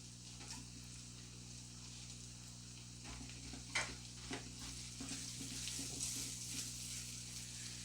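Quiet spoon stirring of baked beans with barbecue sauce, brown sugar and salt, soft scraping strokes over a faint steady background hum, with a few louder scrapes partway through.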